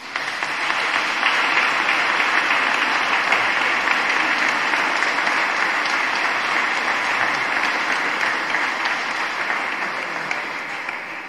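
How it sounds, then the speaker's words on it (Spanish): A church congregation applauds the choir at a solemn votive Mass, steady dense clapping filling the sanctuary for about eleven seconds without a break. "os pido un caluroso aplauso"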